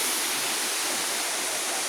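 Waterfall in Laos, a steady, loud broadband rush of falling water that stays constant throughout, with no voices.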